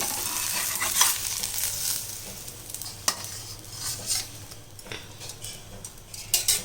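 Wheat flour dosa batter sizzling on a hot pan: a close, steady frying hiss broken by light scraping clicks of a spatula, with no voices.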